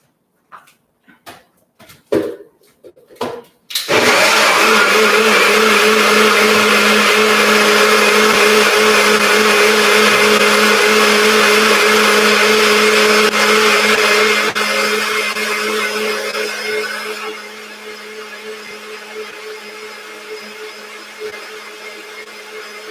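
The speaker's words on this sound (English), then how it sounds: "I'm going to let this blend for maybe about 30 seconds to 45 seconds" A countertop blender runs steadily on beet puree, loud and continuous for about ten seconds before easing to a lower, quieter whir; a few brief clicks come just before it starts.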